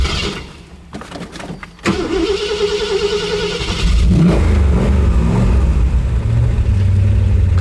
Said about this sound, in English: Car started right back up.